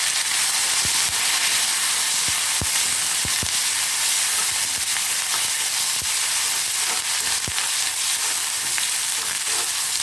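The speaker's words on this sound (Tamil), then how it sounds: "கருவேப்பிலை, வெங்காயம் கொஞ்சம் வதங்கட்டும்." Onion and curry leaves sauté in hot oil with a dense, steady sizzle, close and loud, sharp pops and crackles scattered throughout, and no talking.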